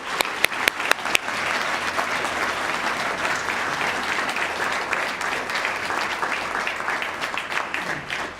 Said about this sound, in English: Please give Mr. Mugamuzi a warm round of applause